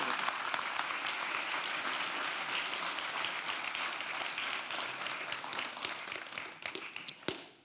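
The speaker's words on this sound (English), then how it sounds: "give her a warm round of applause" An audience applauds to welcome planetary scientist Carolyn Porco to a talk, producing a dense, sustained roar of clapping that slowly fades. A few louder, isolated claps stand out near the close.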